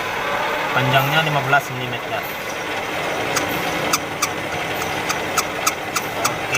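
A conventional metal lathe runs with a steady mechanical hum, while someone talks over it throughout; a few sharp, regular clicks come through in the second half.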